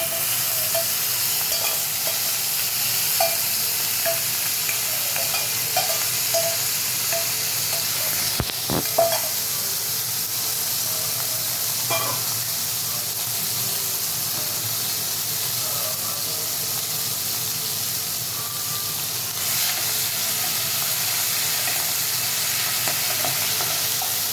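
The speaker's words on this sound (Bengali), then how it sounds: "প্রথমে তেলে চিংড়ি মাছটা দিয়ে দিচ্ছি" Shrimp frying in hot oil in a pan, a steady, loud, close sizzle that runs unbroken throughout, with a few brief clatters from a utensil partway through.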